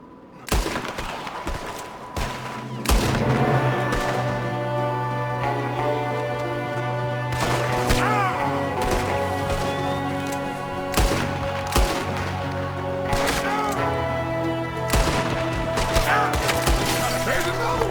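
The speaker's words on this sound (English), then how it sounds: "There's another one shooting from the window." Rapid gunfire in a Red Dead Redemption 2 shootout, with sharp repeated shots and bursts cracking over a sustained game soundtrack drone, loud and dense throughout.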